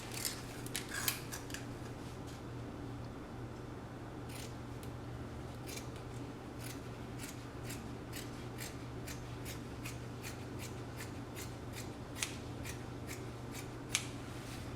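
Scissors snip through uneven excess fabric while sewing an outfit, a steady run of crisp, close cuts over a low background hum, with a few louder snips near the start and toward the end.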